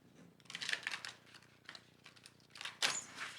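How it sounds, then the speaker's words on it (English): A tarot card deck is shuffled by hand in soft crisp bursts of riffling and flicking card edges, close and quiet, with short pauses between the shuffles. "Shuffle this a couple of times for you and then see what we receive."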